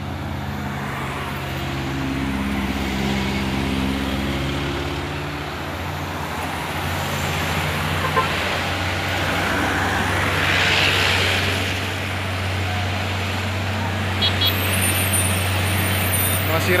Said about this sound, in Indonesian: Satu unit truk pusuh yang sepertinya bermuatan berat.